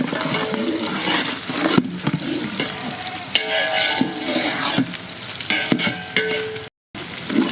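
Cashew nuts tipped into a hot frying pan, village-style pulao cooking: steady close sizzle with scraping stir strokes and clinks of a spoon against the pan, a brief dropout near the end.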